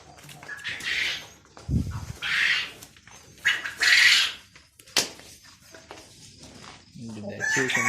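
Chickens and a rooster on a farm crow and cluck repeatedly in loud, drawn-out calls. Short gaps separate the calls, with a brief low thump and some background voices between them.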